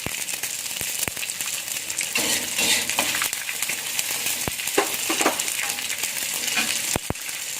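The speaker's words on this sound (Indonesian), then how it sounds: "Ini kita goreng dulu ikan terinya" Small anchovies sizzle and crackle steadily in hot oil, close up, with occasional clinks of a utensil against the pan.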